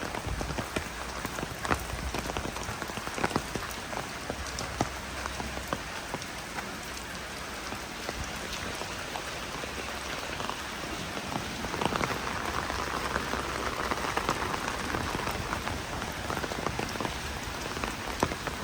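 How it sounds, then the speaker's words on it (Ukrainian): Steady rain pours down on a Lviv street without pause, a dense, even hiss of drops spattering on hard surfaces nearby. "Дощик так підсилюється не слабо, чесно кажучи"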